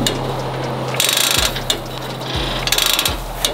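A ratchet tightens a part on a car in loud, close bursts of rapid clicking, three runs of ratcheting separated by brief pauses and small clunks of the tool resetting.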